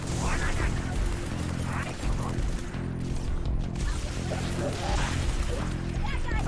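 SMG gunfire in the Halo 3 ODST video game, dense and loud rapid bursts in a chaotic firefight, with other weapon fire and explosions mixed in as someone speaks over it.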